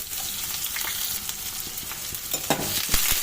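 Mustard seeds, onion and curry leaves fry in hot oil in a pan for a brinjal fry, giving a continuous close sizzle with scattered crackles and pops, plus a few stirring scrapes.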